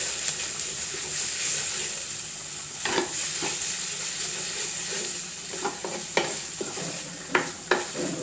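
A ground red chilli paste sizzles steadily in a hot pan, with occasional scrapes and taps of a spoon stirring it, close and without talk.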